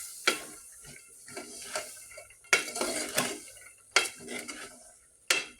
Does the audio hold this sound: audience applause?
no